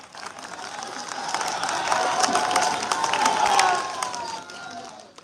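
Audience applause at a student talent felicitation ceremony in Bikaner, a dense, steady patter of many hands clapping that swells toward the middle and fades at the end, with no talk over it.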